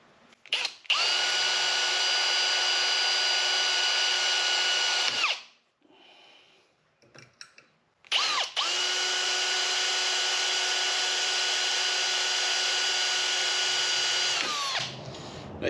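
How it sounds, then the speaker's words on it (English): A power drill drills bolt holes in metal for a fuel tank, whirring at high speed for several seconds, stopping briefly with some clatter, then running again steadily for a long stretch. "So I got to re-drill the holes to fit this 4-bolt pattern."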